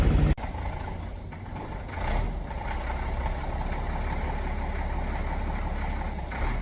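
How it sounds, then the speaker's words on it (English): A heavy tractor engine drones steadily and loudly after a sharp start as it pushes a ship transport bogie, a continuous low mechanical rumble with no talking. "That's the tractor that is going to be pushing the bogey"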